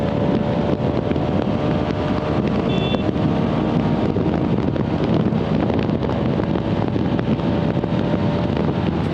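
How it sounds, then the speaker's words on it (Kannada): A Bajaj Pulsar RS 200 motorcycle engine roars at high revs on the road, a loud, sustained drone mixed with heavy wind rush that holds steady throughout, with no speech. "one 143ಗೆ red line ಹೊಡಿತಾಯ್ತಲ್ಲ Guru"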